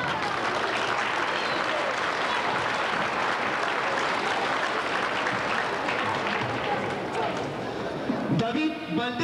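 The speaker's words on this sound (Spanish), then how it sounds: "Un voto de aplausos." A crowd applauds steadily at a Peruvian cultural festival in Huancayo, the clapping thick and continuous before a voice cuts in briefly at the very end.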